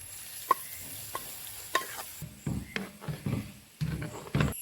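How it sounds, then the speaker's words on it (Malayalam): Chilli powder mixture pours into a simmering chickpea curry for puttu, giving a soft sizzle with a few stirring clinks and scrapes in short bursts, close and fairly quiet. "ഇനി ഇത് കറിയിലേക്ക് ഒഴിച്ചു കൊടുക്കാം"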